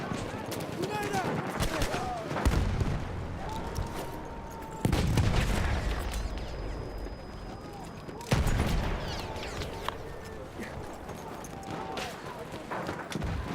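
Battlefield 1 gameplay with scattered gunshots and a few sharp explosive bursts from a grenade, sudden loud hits around mid-clip over a busy battle background, with occasional talk.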